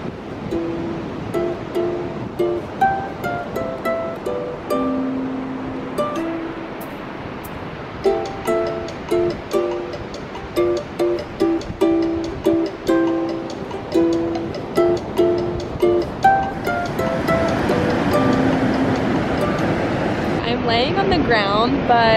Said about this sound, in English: It's a little loud from the waves.